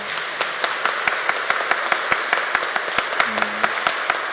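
A congregation applauding during a church Eucharist service, a steady, moderately loud roomful of clapping with sharper individual claps standing out at a brisk rhythm.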